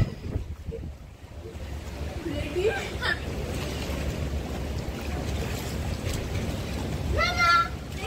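Sea waves at Mandarmani beach wash in a steady, wind-blown roar, with brief voices breaking through now and then.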